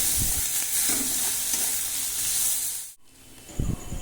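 Crushed garlic and onion with salt and turmeric frying in a pan, stirred with a steady close sizzle that breaks off abruptly, then resumes with a couple of scraping stirs.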